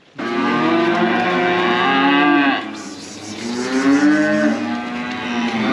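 A cow moos loudly and close by, one long drawn-out low call followed by a second bellow after a brief dip.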